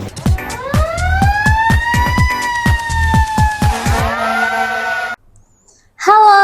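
A fire truck siren rises and holds a long wail over rapid repeating pulses, loud and close, cutting off briefly near the end before a burst of noise returns.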